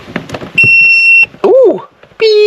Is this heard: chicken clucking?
no